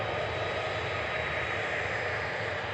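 A Qatar Airways Airbus A350 jet, a two-year-old airframe, makes a steady, broad engine roar that holds at an even, fairly loud level throughout with no voices.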